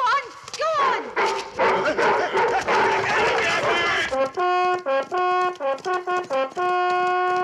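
Dogs bark and yelp excitedly as they are set on intruders in a 1975 children's Robin Hood short film. Several quick barks sound amid shouting voices and commotion, followed by a stretch of music.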